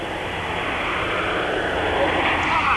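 An aircraft taxiing at the airport in Algiers gives a steady, moderately loud engine roar with a broad hiss that stays even across the stretch, with no speech.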